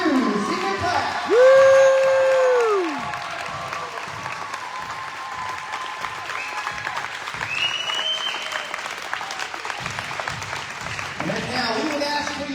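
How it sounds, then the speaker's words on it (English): An audience at a high school boys varsity basketball senior night ceremony applauds the senior class, with steady clapping and some cheering through the clip and a brief tonal sound near the start. "a round of applause for your BU 2022 senior class"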